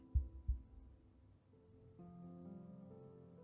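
Two deep, close heartbeat thumps open a quiet video game story scene, fading into a low sustained hum and soft music, with no talking.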